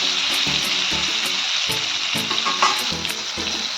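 Potatoes fry in mustard oil with salt and turmeric, a constant close hiss of sizzling overlaid by repeated soft scraping knocks of a spoon stirring the pan, no voices.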